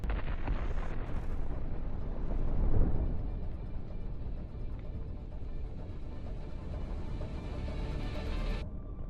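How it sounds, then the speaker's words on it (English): A long, heavy roaring rumble of a tank hull exploding, swelling after two seconds, then sustained dense noise before cutting off abruptly. "The explosion is so strong that the armored hull is shattered and scattered in mangled"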